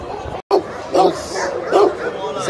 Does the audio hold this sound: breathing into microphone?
no